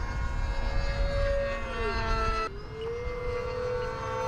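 An E-flite Viper 70mm EDF RC sport jet flies overhead, its ducted fan giving a steady, loud whine that dips in pitch as it passes and then levels off.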